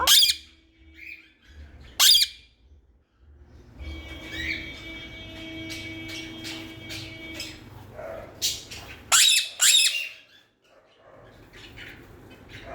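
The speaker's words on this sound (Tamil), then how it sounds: "இந்த அம்மா குருவி" A mother sparrow chirps while feeding her chicks, giving sharp, loud bursts of squawks and chirps in scattered clusters over a quiet background with low rumbling.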